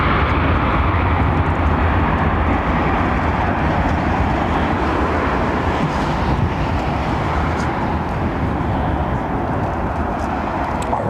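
A loud, steady jet engine roar from a passing Aeromexico airliner at London Heathrow Airport fills the whole stretch, a broad rumbling wash that barely changes in level.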